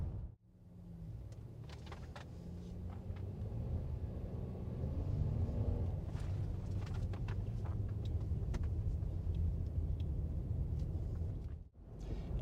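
Honda Ridgeline pickup driving on fresh snow, heard from the cabin as a steady low rumble of engine and road noise throughout, with a brief dip near the end and no talk.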